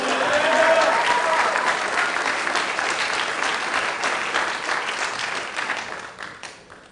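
Applause from an awards ceremony audience after student athletes are named, loud at first and thinning out toward the end.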